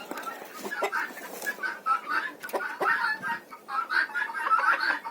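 Chickens clucking and murmuring in short, overlapping calls, fairly close, with a steady busy rhythm and no talking.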